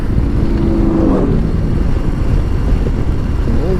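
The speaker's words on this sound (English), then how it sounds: "That guy's exhaust was loud." A loud car roars past nearby, its exhaust note rising and falling as it goes by, with a steady rumble throughout.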